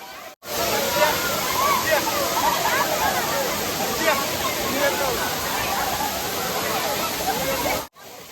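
The Anachadikuthu waterfall, running low in the dry season, roars with a dense, steady rush of falling water heard up close, cutting in and out abruptly at either end.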